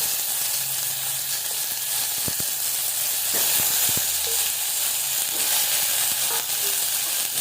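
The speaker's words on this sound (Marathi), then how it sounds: "कढीपत्ता, घालूया कट केल्ले अननस." Cut pineapple frying with curry leaves and turmeric in a pan for Goan pineapple sasav, giving a steady broadband sizzle throughout with a few sharp clicks of a utensil against the pan, no voices.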